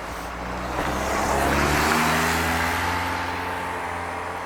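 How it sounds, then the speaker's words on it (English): A car rolls past on a road near a covered bridge in Greenfield, Massachusetts, its engine and tire roar swelling to a close peak, then fading away, with no talking. "So yeah, a car just passed by, and then there's a mail truck."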